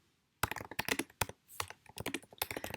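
Quick bursts of typing on a computer keyboard while text is entered for a scheduled LinkedIn post, crisp close key clicks in irregular clusters after a brief silent start.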